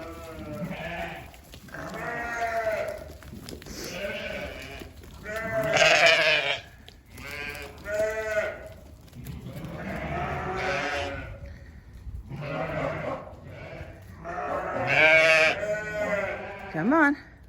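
Sheep bleat repeatedly at close range during lambing preparation on a farm as a flock is separated, with overlapping calls rising and falling in loud bursts and no talking.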